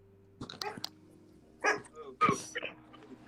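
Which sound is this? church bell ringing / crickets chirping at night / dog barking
dog barking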